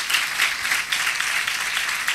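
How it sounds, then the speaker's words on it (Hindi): Loud, dense applause from a church congregation during a Sunday thanksgiving sermon, many hands clapping together in a steady, close burst with no voices over it. "सब के लिए जोरदार तालियां बजा दूं"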